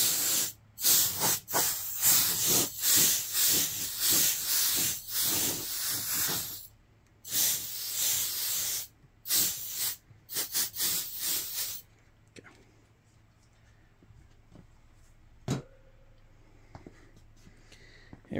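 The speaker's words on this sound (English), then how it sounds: "Dust remover." Can of dust remover spray blasting air over a 1/350 scale model kit: a loud, close series of sharp hissing bursts in quick irregular succession for about twelve seconds, then near quiet with a faint click.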